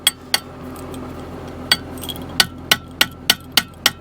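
Metal pin used as a makeshift hammer, tapping hard in a tight spot on a water pipe fitting: a series of about ten sharp metallic knocks, irregular at first then steady, close and clear over quiet background.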